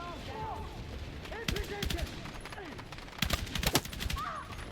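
Machine gun fire in the military shooter game Battlefield 6: scattered bursts and single shots with sharp cracks, heaviest near the middle and end, mixed with shouted voice lines and battlefield clatter.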